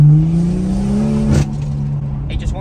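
A BMW M240i's B58 engine accelerating in sport mode, the intake and exhaust note rising steadily through the revs and then dropping at a gear change, loud and close from inside the car, with a voice talking over it.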